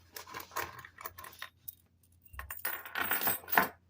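Two metal keys jangling and clinking in the hand, light scattered metallic rattles in short bursts with brief pauses, close and fairly quiet.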